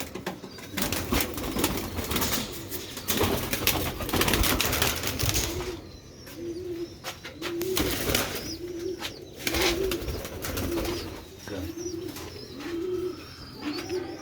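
Domestic pigeons coo again and again in a steady, throaty rhythm, with occasional wing flutters among a noisy loft full of birds. The cooing is close and prominent, and no one speaks.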